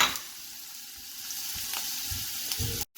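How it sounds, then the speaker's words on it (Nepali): Chopped onions and potatoes fry in hot oil in a pan until brown for a tomato pickle, giving a steady close sizzle with a few soft stirring scrapes and no talk. "म अलिकति तेल हाल्छु र प्याज हालेर यसलाई ब्राउन हुने गरेर भुट्छु म।"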